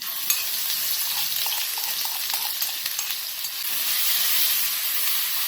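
A ground paste with garlic, cumin and salt fries in hot oil for chole, a steady close sizzle with faint stirring scrapes that swells louder toward the end.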